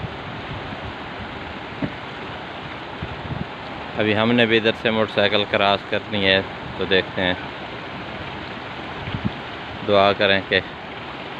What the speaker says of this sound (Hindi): इतना तेज़ पानी है, तेज़ बहाव में